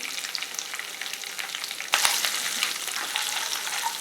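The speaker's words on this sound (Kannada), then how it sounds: "ಫ್ಲೇಮ್ನ ಕಡಿಮೆಗಿಟ್ಟು ಒಂದು ಮೂವತ್ತು ಎಲೆ ಹಾಕ್ತೀನಿ ಇದಕ್ಕೆ ಕಾಲು ಚಮಚ ಅರಿಶಿನದ ಪುಡಿ" About thirty leaves dropped into a pan on low flame with turmeric, after lentils and peanuts have fried: a soft steady sizzle that suddenly grows louder and busier midway, then keeps crackling close up.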